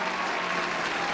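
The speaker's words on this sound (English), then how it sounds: "And listen to that applause from the garage." Applause breaks out in a racing garage after the number 90 LCS car wins from pole, a dense, steady wash of clapping held at an even level for just over a second with no voices on top.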